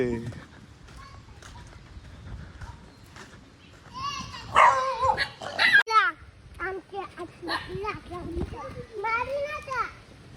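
Dogs bark in short bursts at goats being grazed, amid lively children's voices and shouting, the barking close and loud in the middle.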